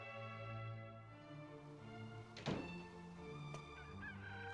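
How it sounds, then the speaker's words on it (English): A rooster crows in the Dragon Quest 8 video game on PS2, a drawn-out honking call over a steady musical backdrop, with one sharp louder burst near the middle and no talking. "The sun's already well up and you're just crowing now?"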